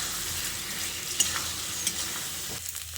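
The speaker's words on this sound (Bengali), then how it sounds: "এবার তিল আর সর্ষে বাটাটা দিয়ে আবারও ভালো করে মিশিয়ে নিচ্ছি।" Sesame and mustard paste being stirred into a vegetarian drumstick curry in a pan; soft continuous sizzling with a few faint clinks of the spoon against the pan, close and quiet, with no talk.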